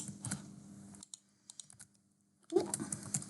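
Keys clatter on a computer keyboard in short bursts of typing separated by brief pauses, close and fairly quiet, with no one speaking.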